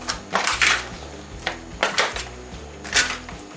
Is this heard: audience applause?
no